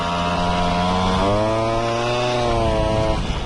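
Motorized BMX bike engine revving hard as it accelerates, a loud, continuous two-stroke-style buzz whose pitch climbs steadily and then drops off near the end, close to the listener.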